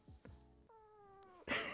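A cheap toy cat gives a short electronic meow, a few thin tonal cries close up, ending in a sudden burst of noise.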